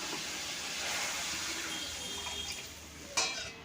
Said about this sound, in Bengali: আমার মশলাটা কষানো হয়ে গেছে আমি এবার জল দিয়ে দিচ্ছি